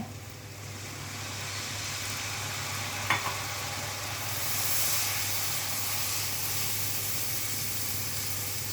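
A steady hiss and sizzle of liquid hitting a hot pan, continuous and fairly quiet, with a faint clink partway through.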